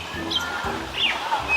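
Robin song: several short, clear, high chirps and whistles spread across a second and a half, moderately loud against a low murmur, without speech.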